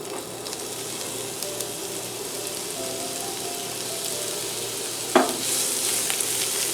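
Chopped onions sweat in a pan for vegetarian samosa filling, giving a steady, fairly soft sizzle that runs throughout, with one brief clatter near the end.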